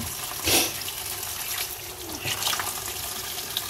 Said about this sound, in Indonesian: Cuci di air yang mengalir, terus kita tiriskan